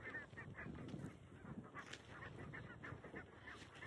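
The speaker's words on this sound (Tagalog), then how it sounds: "Yung mga gansa guys, yung wild na gansa, ang dami nila, oh." A large flock of wild geese honks continuously at a moderate distance, many overlapping calls forming a busy, steady chorus with wind rumble underneath.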